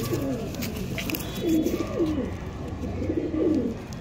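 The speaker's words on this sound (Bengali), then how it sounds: "ছটপটে পায়রাগুলো দেখুন" Pakistani pigeons coo inside a loft, several soft throaty rolling calls repeating at a relaxed pace over a low, steady background hum.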